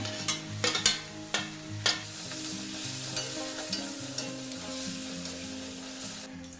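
Spice masala with tomatoes sautés in oil for a banana flower dish, a steady sizzle broken by sharp spoon clanks and scrapes against the pan, busiest early on, with a low musical tone underneath.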